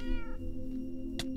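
A cat meows once inside a Minecraft game world, a short clear in-game mew heard alone against a low steady background hum.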